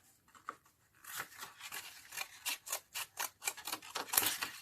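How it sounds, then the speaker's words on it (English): Scissors cut paper to size for a junk journal, a close series of about a dozen crisp rhythmic snips and slices following a few soft handling sounds. "So I'm just going to cut this to size."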